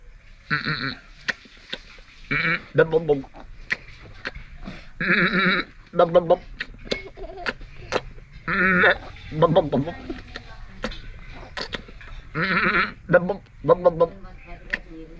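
A voice imitates a suckling baby goat, giving a series of short, nasal bleats in separate bursts with brief pauses between them, close and fairly loud.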